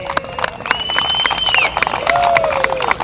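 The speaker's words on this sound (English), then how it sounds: "let's give them a round of applause" A crowd at an annual first-responder tournament bursts into brief applause and cheering for the first responders, with scattered clapping and a couple of rising whistles over the noise.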